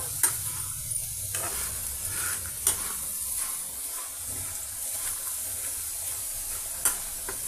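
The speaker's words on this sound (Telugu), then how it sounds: "ఏమీ చేర్చకుండా ఓన్లీ ఆయిల్తో పొటాటో పీసెస్ని ఈ విధంగా మనం ఫ్రై చేస్తున్నామండి." Potato pieces fry in oil over a high flame with a constant close sizzle, broken by a few sharp clicks and scrapes from stirring.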